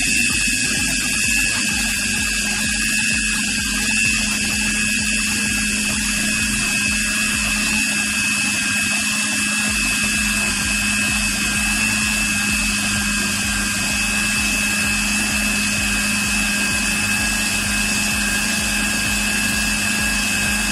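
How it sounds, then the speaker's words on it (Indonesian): A food processor grinds tofu meatball dough in a home kitchen, a loud, steady motor drone with churning texture that runs unbroken and close for the whole stretch. "ini semuanya sudah masuk dan kita bisa haluskan"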